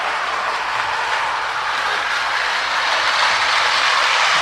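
Antique Ives 1120 toy train, nearly a century old, running steadily around its track, a continuous close whirring rumble of motor and wheels with no voices.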